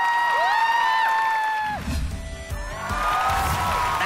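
A studio audience at a Vietnamese game show cheers and applauds for Vinh Râu, a broad crowd roar that swells in after a gliding electronic sound effect fades out.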